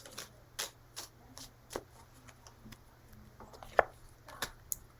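Tarot cards being shuffled, a string of soft papery riffles and taps at an uneven pace over a faint steady background hum, fairly close and quiet, with no talking.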